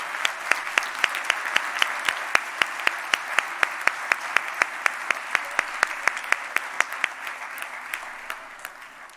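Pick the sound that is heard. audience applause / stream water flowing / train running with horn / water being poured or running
audience applause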